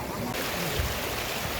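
Water from Nagalur Falls pours and rushes steadily as a broad, continuous roar close by, with no pauses across the short stretch.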